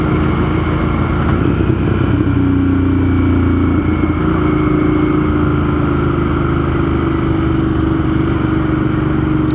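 A motorcycle cruising along Vermont Route 14 on a summer ride, its engine droning loud and steady throughout with a low rumbling hum and mild rises in pitch, accompanied by constant wind rush and no speech.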